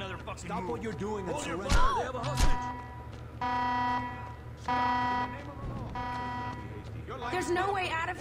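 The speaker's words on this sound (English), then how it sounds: "Jessica, you're gonna turn off that alarm" Electronic alarm in the video game Saints Row 2: three long, steady buzzing blasts, each about a second, loud and close, separated by short gaps, following sharp impacts and a wobbling siren-like sound at the start and returning near the end.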